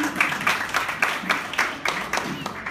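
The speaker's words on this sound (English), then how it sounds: "Let's give them a round of applause." Audience applause at a youth empowerment conference in a leisure centre, heard as scattered, uneven clapping with distinct individual claps rather than a dense roar, steady for a few seconds.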